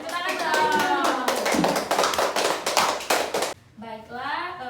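Children at an educational talk clap their hands in a fast, dense burst of close applause lasting several seconds, then the clapping stops abruptly and a voice speaks.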